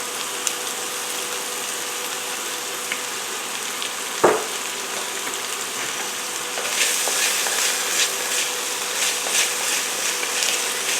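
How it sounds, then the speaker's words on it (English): Diced celery, carrots and onions sizzle steadily in a pan for a creamy chicken stew, with a sharp clack of a utensil partway through and the frying growing louder and more crackly as they are stirred. "I'm going to saute this down until our onions are nice and soft and translucent"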